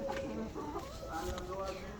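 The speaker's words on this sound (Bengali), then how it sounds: "আমি বুঝলাম না এই মোরগটা আমার পিছে পিছে কেন ঘুরছে" A rooster on a chicken farm gives soft, short clucks close by, a few low calls scattered over a quiet background with faint farmyard sounds.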